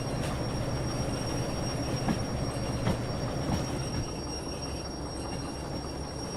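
Continuous low rolling rumble of a train in the video game Derail Valley with brakes dragging, a faint metallic drag and a few clicks, steady and moderately quiet with no voices.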